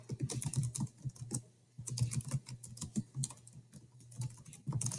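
Fingers typing on a computer keyboard in quick irregular bursts of clicky keystrokes, close and fairly quiet, with short pauses between runs.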